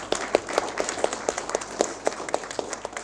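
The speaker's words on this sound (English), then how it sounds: "I think we'll give George a round of applause" A small wedding gathering claps for a reading, a light round of separate, fairly rhythmic hand claps from a few nearby guests, steady across three seconds with no voices.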